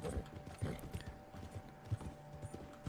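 Rhythmic clip-clop of a horse's hooves in a video game, a steady run of thuds close and fairly clear, with a faint steady tone running underneath.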